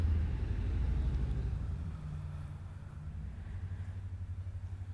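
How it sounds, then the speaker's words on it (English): Cars passing in the distance, a faint low rumble that swells and fades gently, steady traffic noise with no voices over it. "the sounds of the cars."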